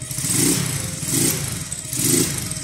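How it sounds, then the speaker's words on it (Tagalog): A Rusi Korak 110 motorcycle engine with its stock exhaust runs close by, loud and steady, swelling in three even rhythmic pulses as it revs slightly. "stock lang, stock exhaust ng kurak."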